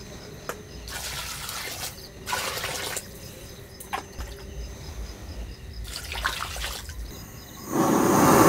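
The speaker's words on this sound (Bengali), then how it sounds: "জল দিয়ে দিচ্ছি" Water from a bucket pours into a cooking pot in splashing bursts that come and go, growing into a louder, steadier gush at the end.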